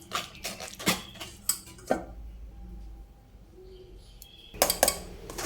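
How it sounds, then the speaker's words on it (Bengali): A metal spatula knocking and scraping against a cooking pot while making a mango preparation, with sharp clinks in bursts at the start and end and quieter scraping between. "খুন্তি দিয়ে এইভাবে করি"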